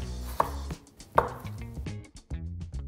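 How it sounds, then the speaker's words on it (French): A knife chops through potatoes on a cutting board, halving them and slicing them into long strips, with two sharp thunks followed by a rapid run of short cuts. "Moi, je vais m'occuper des pommes de terre qu'on coupe en 2 et ensuite en 3 grandes lanières"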